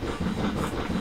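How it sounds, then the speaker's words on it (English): A steam train rumbles steadily in a train-driving video game, with a continuous low chugging drone and faint hiss running close and even throughout, no talk. "Oh wow, look at this, we're driving a train!"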